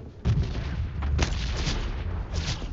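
Gunfire and booming blasts from a PUBG Mobile match in Pochinki ring out at a distance, several muffled shots scattered over a few seconds at low volume.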